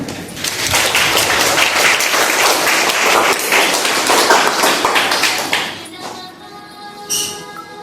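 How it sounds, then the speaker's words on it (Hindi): A classroom group applauds a student, dense close clapping that holds steady for several seconds, then thins out and fades, with a voice faintly heard near the end. "तालियां"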